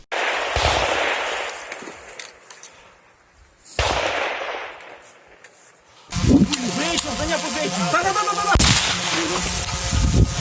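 Gunfire during a military combat training assault sounds as sharp cracking bursts and single shots, loud and close, mixed with rustling movement and shouted voices, with a dense rapid stretch toward the end.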